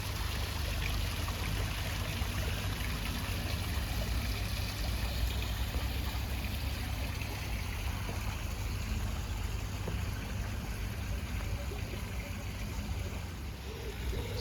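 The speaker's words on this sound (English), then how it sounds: "Lovely waterfall." Steady, continuous rush of falling water from a koi pond garden waterfall, broadband and even throughout, close by with no clear voices over it.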